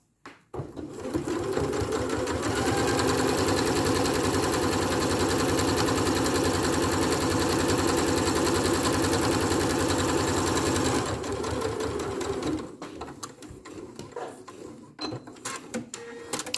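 Sewing machine running a long continuous stitch along a shirt cuff, a loud steady mechanical whir for about ten seconds, then stopping with some handling noises.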